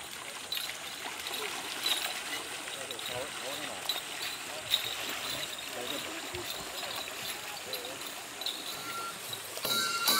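Steady river water flowing through a shrine festival where a portable shrine has arrived at a purification platform, with a continuous broadband rush, faint crowd voices and scattered splashes underneath.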